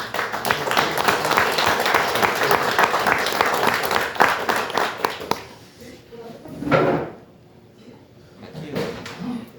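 Strong applause from an evening gathering of a Christian businessmen's fellowship chapter welcoming a new member, a married merchant; dense clapping fills the first five seconds, then fades into quieter room sound with a few scattered claps and voices.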